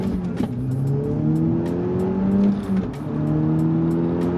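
An Audi S3 facelift engine revs hard and climbs through the gears, a loud rising drone with brief dips at each shift, close to the microphone.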